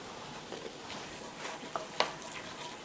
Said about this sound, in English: so whisk in the flour right into that butter